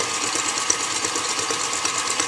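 An electric mixer creams white and dark brown sugar together for gluten-free beer brownies, a steady close whirring hum held without a break and with no talking.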